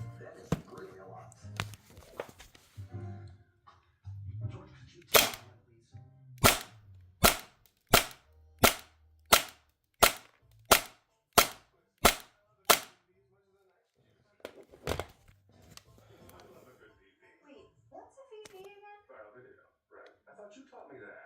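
CL Project Hi-Capa airsoft pistol firing a steady series of about a dozen sharp, loud cracks at an even rhythm, with talk before and after the string of shots.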